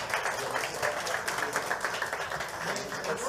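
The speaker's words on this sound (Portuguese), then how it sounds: "Dê um aplauso ao Senhor por esses atores maravilhosos," Church congregation applauding the actors after a performance, steady crowd clapping heard from a distance and held throughout at a moderate level.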